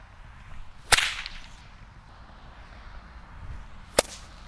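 A bullwhip lashes at a can twice, each swing a sharp, brief snap-like hit about three seconds apart, close and loud over a quiet room background.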